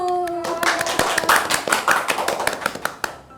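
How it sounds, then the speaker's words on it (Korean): An audience claps together loudly at a university event, a dense burst of applause after a short spoken cue that gradually thins into scattered, fading claps. "박수!"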